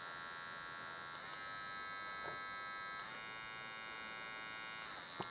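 A Yabife dog nail grinder whines with a steady, high electric buzz, stepping through its three speeds with a small click and shift in pitch at each change, close and fairly quiet.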